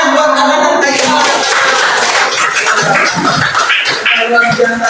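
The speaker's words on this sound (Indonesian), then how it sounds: "Tepuk tangan buat Arlan dan Haikal" A group claps for two participants, Arlan and Haikal, at a coaching session for academic supervision, a few seconds of loud, dense applause with voices mixed in.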